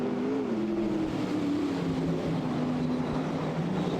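A late model race car roars past at Lismore Speedway, a loud steady engine drone with a falling pitch as it goes by, close and continuous.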